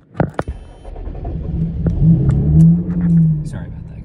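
A click and a brief crank, then the engine of a 2021 Lotus Evora GT catches and settles into a deep, rumbling idle with a light rev, close by.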